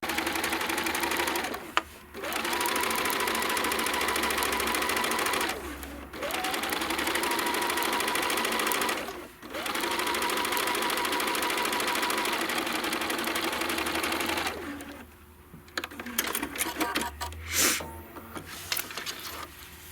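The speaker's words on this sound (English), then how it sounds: "when you lay it like that and you top stitch it down, it encloses the raw edge of your fabric" A sewing machine top stitches fabric for a round pillow, running in several steady sustained bursts separated by short pauses, loud and close with no talking.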